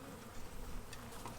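Bees buzzing around an opened beehive during an inspection, a brief, dense and fairly close hum that stays steady with slight swells, no voices.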